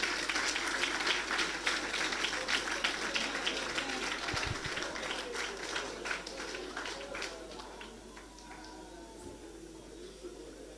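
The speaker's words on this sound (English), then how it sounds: "Ladies and gentlemen, clap like you want to clap for these people" An audience at a youth sports awards ceremony claps steadily, a dense, continuous applause heard from within the room that gradually thins and softens toward the end.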